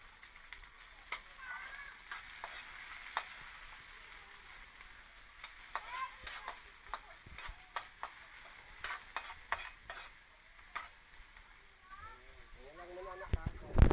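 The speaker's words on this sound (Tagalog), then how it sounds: "Yan ang pangsasahog natin. So, sibuyas at kamatis." Onion and tomato sautéing in a pan, a soft low sizzle with scattered clinks and scrapes of a utensil, fairly faint, with some voice-like sounds toward the end.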